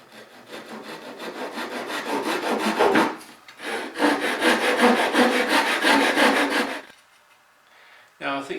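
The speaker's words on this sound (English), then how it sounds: "and then cut off that angle." A hardwood batten is hand sawn at an angle on a bench hook, giving close, loud rasping strokes in two sustained runs separated by a short pause, then a quieter gap and a final brief burst.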